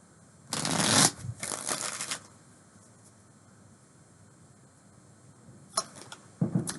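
Tarot cards being shuffled, two quick riffling bursts near the start and more brief shuffles at the end, close and fairly quiet with near silence between.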